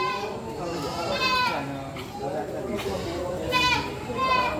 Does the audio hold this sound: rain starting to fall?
no